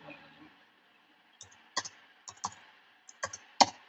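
Light tapping on a computer keyboard, a few scattered clusters of crisp key clicks close by after a brief pause, quiet and without talk.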